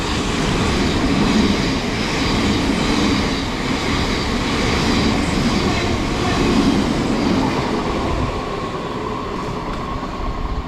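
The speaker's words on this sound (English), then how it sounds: "The train now approaching platform 4 does not stop." A non-stopping train speeds through platform 4 of a station on the Caterham branch in Surrey, giving a loud, steady rumble and rail clatter that fills the whole stretch without letup.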